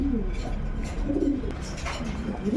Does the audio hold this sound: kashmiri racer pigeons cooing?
yes